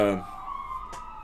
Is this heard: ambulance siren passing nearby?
yes